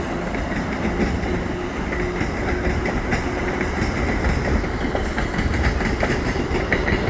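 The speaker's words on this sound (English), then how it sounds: "there's the outbound train headed into Montreal." An outbound train headed into Montreal rumbles steadily past at Dorval station, with rhythmic wheel clatter and rail noise sustained throughout at a fairly close, constant level.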